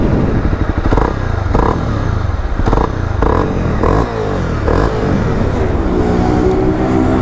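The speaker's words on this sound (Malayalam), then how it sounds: "നമുക്ക് എന്തായാലും ഈ ഒരു വാഹനം ഒന്ന് ക്രാങ്കപ്പ് ചെയ്ത് ഇതിൻ്റെ ഒരു സൗണ്ട് ഒന്ന് കേട്ട് നോക്കാം" A 2022 Honda CB300R naked motorcycle runs close by with a loud, steady, throbbing exhaust note and several short throttle blips rising above the idle, with no talking.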